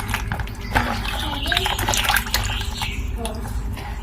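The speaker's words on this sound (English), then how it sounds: "I'm now going to go ahead and wash this." Running water rinsing salted eggplant pieces in a kitchen, a continuous splashing and trickling stream with drips, fairly loud and close throughout.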